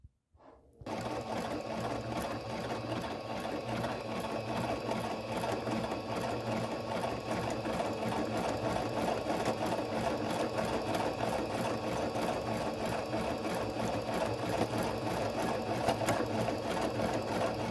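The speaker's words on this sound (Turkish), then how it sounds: "Şimdi overlock dikişimize başlıyoruz." A Singer Brilliance 6160 sewing machine fitted with an overlock foot runs an overlock stitch along the fabric edge, a steady rapid mechanical whir and tapping that continues evenly for over fifteen seconds.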